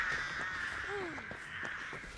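Crows cawing in a spooky game setting, one clear descending caw standing out over a steady droning ambience with soft clicks and thumps.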